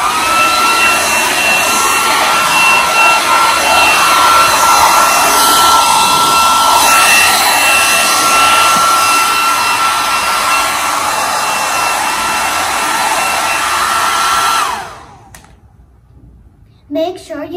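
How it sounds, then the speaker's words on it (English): A hair dryer blows steadily and loudly at close range while drying a wet Lenovo T480 laptop, a constant airflow roar that cuts off abruptly near the end, leaving near silence and a brief faint knock. "And then for the remaining moisture, you use a hairdryer."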